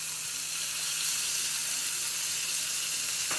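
Chopped medium tomatoes hit spices frying in a pan for dal tadka, giving a steady, hissing sizzle that holds evenly throughout at moderate loudness, with no one speaking.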